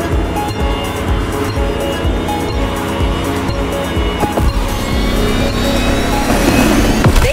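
A Lamborghini Terzo Millennio supercar in The Crew Motorfest drones loudly and steadily with a sustained engine tone, rising slightly in pitch toward the end under a layer of background music.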